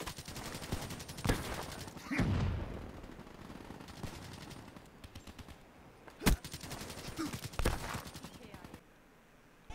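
Automatic PPSh submachine gun fire in a video game, heard as a few sharp bursts spread across the stretch over a steady background of game noise.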